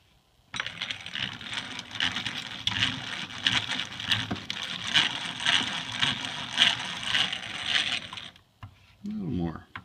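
A drill press handle is cranked down, producing a sustained rattling, clicking mechanical whir with ratchet-like ticks for about eight seconds, then stopping abruptly before a brief voice.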